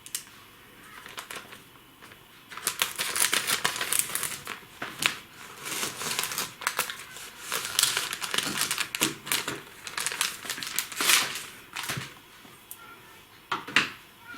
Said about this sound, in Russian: Давайте снимем сначала пакетик с маленькой орхидеей.